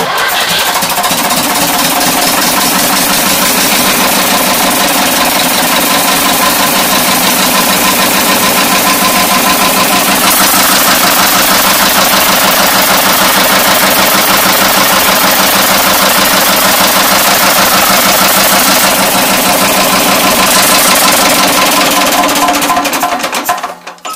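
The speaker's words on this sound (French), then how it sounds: "je mets des gaz, j'enfonce la surcharge et je mets un coup de démarreur" Renault V72 tractor engine heard close and loud, running steadily with a continuous rough, knocking drone for over twenty seconds before it cuts out abruptly at the end; no voices.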